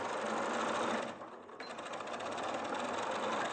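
A sewing machine stitches steadily, reversing back and forth at the start and end of a seam on fabric; the whirring runs loud and close, dips briefly mid-way, then resumes at full speed.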